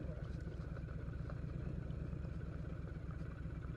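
A big motorcycle rides on a gravel road that used to be blacktop, its engine a steady low rumble with constant wind and road noise and light crunching texture underneath. No speech is heard.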